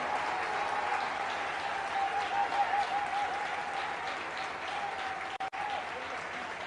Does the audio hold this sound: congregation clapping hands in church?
yes